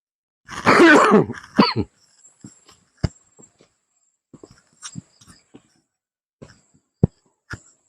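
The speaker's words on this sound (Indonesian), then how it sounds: "Aduh, saya lagi batuk ini, aduh." A burst of coughing up close, followed by quiet breathing, faint clicks and small rustling noises.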